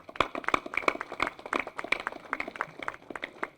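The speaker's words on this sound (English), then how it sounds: "please give him a round of applause" Applause at a Veterans Day ceremony in Arlington: a brief, moderately distant round of clapping from a crowd, steady sharp claps throughout.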